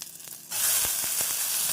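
Loud, steady sizzling of onions and boiled chana dal frying in a hot pan, starting abruptly after a quiet moment, with occasional soft stirring scrapes.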